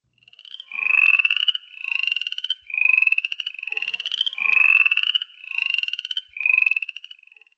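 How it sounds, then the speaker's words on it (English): Upland chorus frog calling alone: seven rising, rasping trills about a second each, repeated in an even series, loud and close. "So that was the upland chorus frog."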